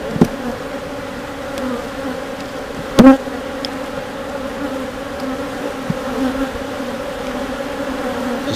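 Honeybees buzz steadily at an open hive, a close, dense hum of many insects that stays constant throughout, with a couple of faint brief knocks.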